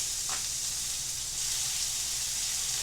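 Steak seasoned with fajita seasoning searing in a hot pan, a steady dense sizzle and hiss that swells slightly partway through, with no talking.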